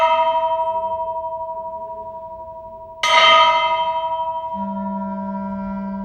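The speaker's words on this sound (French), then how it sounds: "le père Michaud installe lui-même la cloche sur le toit" A bell on a school roof is struck, leaving a long sustained ringing tone that slowly decays. A second sharp strike comes midway and swells the ringing again before a lower steady hum joins.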